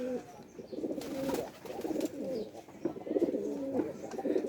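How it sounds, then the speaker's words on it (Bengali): A newly caught pigeon coos in soft, repeated throaty phrases, fairly close and quiet, with short pauses between calls and no speech. "এই যে এখানে একটা আমাদের ধরা কবুতর আছে নতুন"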